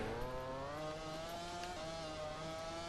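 Honda Repsol MotoGP bike engine in the MotoGP 14 racing game on PS4, a steady high-pitched whine holding near one pitch with a slight rise, continuous and fairly quiet, no talking.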